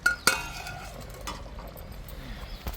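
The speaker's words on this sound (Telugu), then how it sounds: "మూత పెట్టేసేసుకుందాం." A lid set on a cooking pot of chicken curry, one sharp metallic clink near the start followed by faint kitchen clatter, quiet and close.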